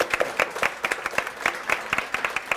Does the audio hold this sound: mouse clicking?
no